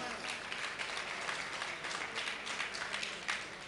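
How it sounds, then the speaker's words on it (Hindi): Crowd claps steadily at a Jain religious festival gathering in Bhatapara, Chhattisgarh, a sustained wash of many hands at moderate level, evenly textured without clear breaks for its whole length. "ये तालियां इसलिए बजाई जा रही हैं"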